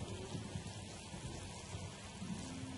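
Rain falls in the video game Spore, a faint, continuous patter with a low rumble beneath it, heard alone without any voices.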